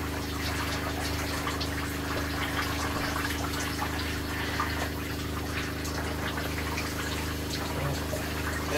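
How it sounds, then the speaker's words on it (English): Steady water running from an RV camper shower with the hot water turned up, a continuous hiss and splash over a low pump-like hum, even and unbroken throughout. "So I can turn up the hot water now, turn the cold down a little bit actually."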